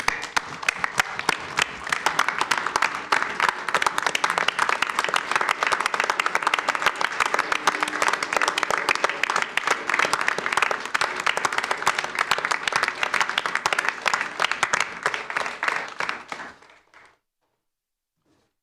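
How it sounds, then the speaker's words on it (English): Sustained applause from an audience at a village board meeting, dense and steady clapping filling the room for about sixteen seconds before stopping abruptly into silence. "why don't we start with a round of applause for Lou?"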